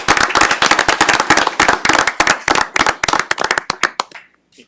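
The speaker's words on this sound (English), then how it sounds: "give them a round of applause" Applause from a city council meeting audience honoring the fire department, a dense burst of hand clapping that starts loud and thins out into a few scattered claps before fading to near silence.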